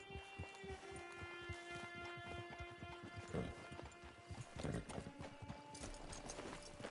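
Rapid, steady clip-clop of horse hooves trotting close by in Red Dead Redemption 2 Online, with a brief neigh and rattling cart-like clatter mixed in.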